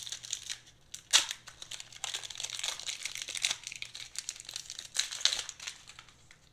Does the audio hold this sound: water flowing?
no